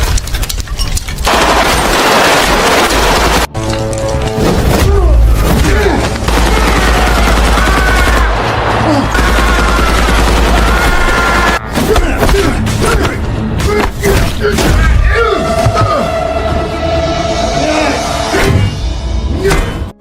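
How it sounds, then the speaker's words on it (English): Hitmen fire blindly in a loud film action scene, with sustained bursts of automatic gunfire, heavy thuds and impacts filling the scene, and a dense score and effects layered underneath. "Mick and Mac suddenly enter and shoot them blindly"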